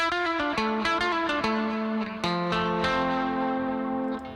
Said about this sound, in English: And then there's this arpeggio.